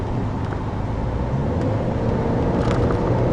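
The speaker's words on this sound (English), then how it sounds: "that 2-liter EcoBoost engine it's got no turbo lag" Inside a 2013 Ford Escape Titanium with a 2-liter EcoBoost engine, a steady low engine and road drone fills the cabin while driving, with no speech.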